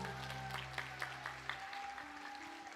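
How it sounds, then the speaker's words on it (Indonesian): Applause at a church gathering, with hand claps pattering softly over a sustained tonal hum and background music, faint and somewhat distant. "Beri tepuk tangan yang meriah satu kali lagi dong."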